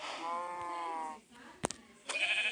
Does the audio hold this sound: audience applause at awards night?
no